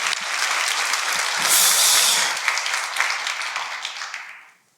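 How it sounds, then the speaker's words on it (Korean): A church congregation bursts into loud, sustained applause during a worship service that swells, holds for a few seconds, then fades out, with no one speaking over it. "우리 하나님께 감사와 영광의 박수를."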